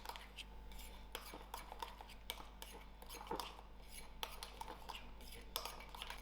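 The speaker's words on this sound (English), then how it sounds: "I'm going to mix this all together" Utensil clinking and scraping in a bowl while mixing jalapeno popper stuffing, with repeated quiet taps and stirring clatter at a steady, irregular pace, soft and close throughout.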